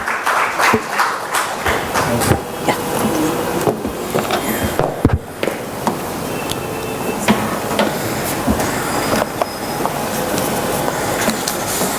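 An audience at an agriculture conclave breaks into loud, dense applause in a large hall, a sustained clatter of many hands with sharp peaks scattered throughout.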